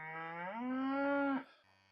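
A mother cow moos once, a long, loud, rising low call lasting over a second, heard close and alone before it cuts off into quiet.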